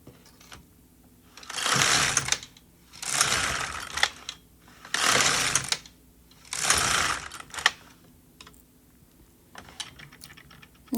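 A bulky knitting machine knitting rows of waste yarn: four loud carriage passes of sliding, clattering rasps, each about a second long and separated by short gaps, followed by lighter clicks and ticks.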